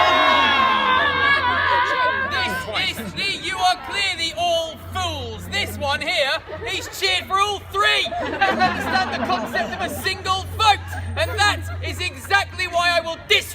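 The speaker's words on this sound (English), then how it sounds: "put your hands in the air and cheer now!" An audience at a historical show at the Tower of London cheers and screams loudly, a dense crowd roar with shouting children and chatter sustained throughout, with a performer's voice over it.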